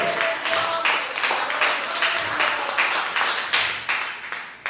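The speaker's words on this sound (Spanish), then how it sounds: "Si le dan un aplauso al Señor." A church congregation claps and applauds during a Spanish-language sermon, with dense, steady clapping that swells in repeated waves for several seconds. Voices call out faintly in the background.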